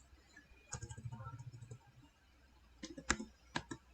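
Text being typed on a computer keyboard in CorelDRAW, heard as a quick run of light key clicks followed by a few scattered sharper taps, close and fairly quiet in a still room.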